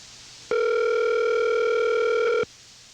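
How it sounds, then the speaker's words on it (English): A single telephone ringing tone from an outgoing call, one steady electronic tone lasting about two seconds, loud and close with no talk over it. "Call Freddie the producer and then call Yellowfell after that"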